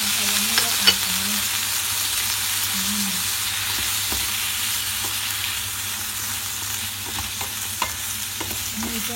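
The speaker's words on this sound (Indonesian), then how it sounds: "Aduk-aduk sampai si wortelnya itu matang ya teman-teman. Masukkan ayamnya ya teman-teman." Chicken and carrots stir-fried in a pan give a constant loud sizzle with occasional scraping taps of a utensil, and a low hum runs beneath throughout.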